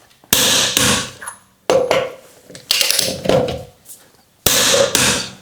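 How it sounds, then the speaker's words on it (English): An electric ratchet snugs the wheel lug nuts on a Chevrolet Colorado or GMC Canyon in a home garage, in four loud, close whirring bursts separated by short pauses, with no talk. "I'm just going to snug them up with the electric ratchet."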